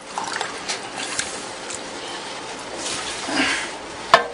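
Water is scooped or poured out of a canning water bath, with faint trickling and dribbling splashes over a quiet background and a sharp knock near the end.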